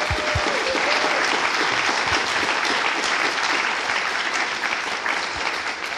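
An audience claps in a university auditorium at the Facultat de Filosofia i Lletres, giving dense, steady applause that holds at full strength throughout and eases only slightly near the end.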